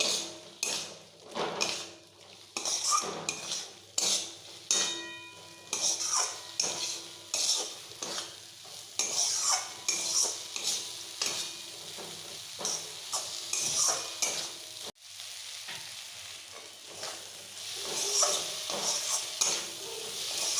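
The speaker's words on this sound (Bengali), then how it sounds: "এবার আমি চিংড়ি মাছগুলো দিয়ে একটু কষে নেবো মশলার সঙ্গে" Prawns are stir-fried with spice paste in a pan for prawn curry: steady sizzling under repeated rhythmic scrapes and clinks of a utensil against the pan, close and continuous, without speech.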